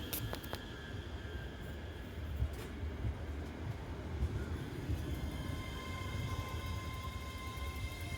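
A steam locomotive, an LMS Black 5, arrives at a station, rumbling steadily in the distance, a low continuous roar with faint metallic squeals and a brief clank near the start.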